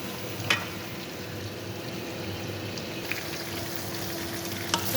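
Onions frying in a pan for an Ethiopian mashbus dish, a steady close sizzle with a few faint clinks and stirring sounds, no talk.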